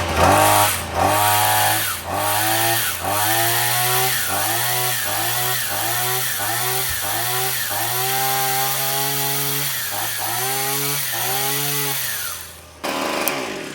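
A small, cheap Amazon pole saw runs continuously with its chain spinning, its two-stroke engine revving up and down in repeated surges before cutting off near the end.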